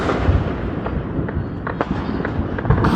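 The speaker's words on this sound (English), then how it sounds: "The whole neighborhood is just firing up." Fourth of July fireworks burst across a neighborhood as a dense, continuous crackle and rumble of overlapping pops, loud and distant, with no clear single bangs standing out.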